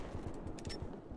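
Rapid bursts of automatic fire in a Max Payne 3 multiplayer match, a quick run of punchy shots in steady succession, fairly close and with no talk over them.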